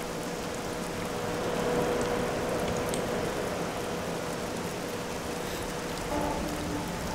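Steady rain falling on a train in Train Simulator 2018, a constant dense hiss of drops with no voices.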